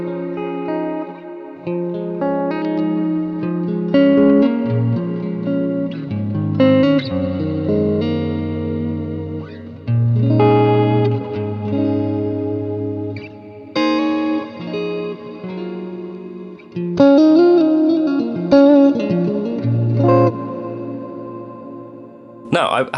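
An electric guitar plays through the big hall reverb of a multi-effects pedal, with sustained chords and single notes ringing out into long, lush tails, loud and up close with brief pauses between phrases.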